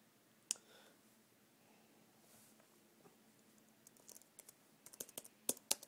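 Keys tapped on a Bluetooth keyboard paired with an iPad: a single sharp click early, then a quiet stretch, then a run of crisp, close keystrokes in quick irregular bursts over faint room hiss.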